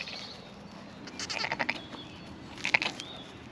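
A Texel mule ewe on a farm at lambing and scanning time gives two wavering bleats a second or so apart, at moderate distance over a quiet outdoor background, with no one talking.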